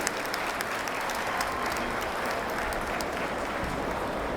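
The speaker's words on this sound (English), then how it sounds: "give him a warm Heroes Dutch Comic Con goodbye applause" A convention crowd at Heroes Dutch Comic Con gives a guest a goodbye round of applause, with sustained, steady clapping from many hands at an even loudness throughout.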